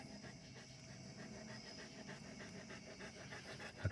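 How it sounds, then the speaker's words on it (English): Murphy the dog pants inside a parked car with the engine off, quick steady huffing breaths close by, soft and unbroken for several seconds, with a small bump near the end. "That's Murphy. You probably hear him huffing and puffing away."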